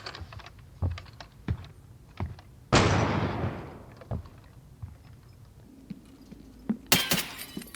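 In Escape from Tarkov, gunfire strikes bulletproof glass with one sharp, loud impact that trails into a crackling, glassy decay. Light keyboard-like clicks come before it, and another harsh burst closes the sequence.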